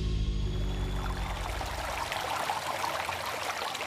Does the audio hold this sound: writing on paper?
no